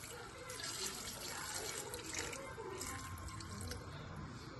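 Hot water is poured into a pot of oil-free chicken curry, producing a steady, fairly loud rushing and splashing stream that lasts throughout, with no speech.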